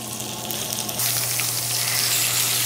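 Pork chops searing in a hot pan, a steady sizzle that jumps louder partway through and then holds, close and continuous with no voices.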